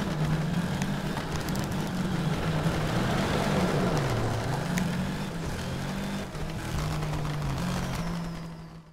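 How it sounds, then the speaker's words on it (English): A rally car's engine labours and strains on a wet, damp surface in the Sega Rally video game, its droning note rising and dipping steadily with a hiss of spray beneath, loud and continuous. "you'll really hear the car engine labouring here as it sort of struggles"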